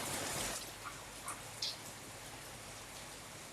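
Rain falls outdoors, picked up by an outdoor microphone as a soft, continuous hiss with a few faint drips and taps over it.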